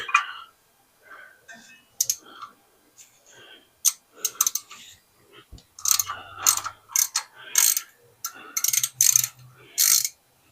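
A ratchet on a long extension works in the engine bay of an Edsel near the radiator, giving bursts of quick metallic clicks separated by pauses and getting busier and louder toward the end, close to the listener.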